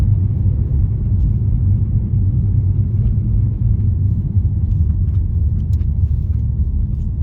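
A car driving on a city road, heard from inside as a steady, loud low engine and tyre rumble throughout, with no talking.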